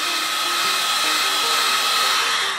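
A heat gun warms leftover glue on a carbon ski boot shell, giving a steady, loud broadband blowing hiss with a faint motor whine that holds without a break for the whole stretch, with no talk.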